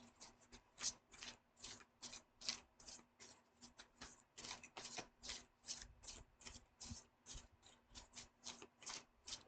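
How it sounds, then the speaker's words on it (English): Tarot card deck being shuffled close up, a steady run of quick crisp riffling bursts repeating throughout, fairly faint, with no talking. "I'm gonna shuffle it the other way"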